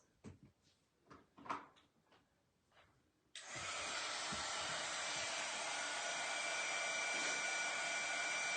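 Hair dryer drying a round rustic 16-inch sign, switched on after a few soft knocks and handling sounds, then roaring steadily and close until the end.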